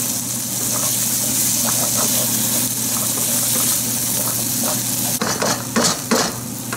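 Spice paste cooking in hot oil in a pan for paneer and mixed vegetable Shahjahani gives a steady, close sizzle. Scraping stirs run throughout, and a few sharper utensil clinks come near the end.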